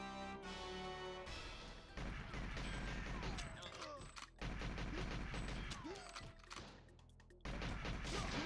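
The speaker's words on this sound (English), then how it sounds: "Oh, where's he shooting at? Shooting at from behind?" Enemy gunfire in the video game Agent 64 crackles in rapid, steady volleys over game music, with brief gaps between bursts.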